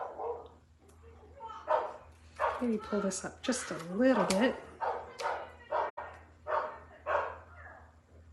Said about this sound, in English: Gosh, lots of barking going on tonight.